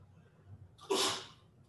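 A single close sneeze, sharp and breathy, rises abruptly out of a quiet room and fades quickly.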